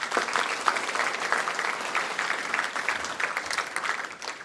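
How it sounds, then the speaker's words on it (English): Steady, moderately distant applause fills an indoor hall at a 2019 sports gala awards night as an award winner is honoured. The clapping is dense and even, with brief individual claps standing out. "Give him a big round of applause"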